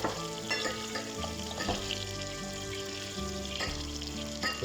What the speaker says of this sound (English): going to sweat down the onion till it's nice and soft first